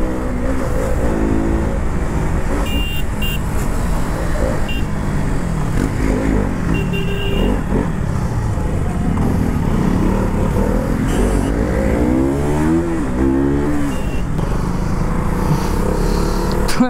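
KTM RC200 and Bajaj NS200 motorcycles filtering through traffic in a street race: loud, close engines rev up and down in rising and falling sweeps over constant wind rush and surrounding traffic, with no talking.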